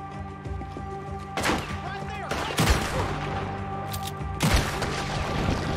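Video game gunfire sounds as a few loud, sharp shots spaced a second or so apart over a humming game soundtrack, with a player talking.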